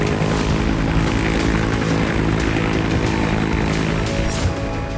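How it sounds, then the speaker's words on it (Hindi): Israeli air force helicopters patrolling over the Red Sea, a loud continuous rotor and engine roar with a dense, thrumming drone that stays steady and close throughout. "लाल सागर में इजरायली वायुसेना के हेलीकॉप्टर गश्त लगा रहे हैं।"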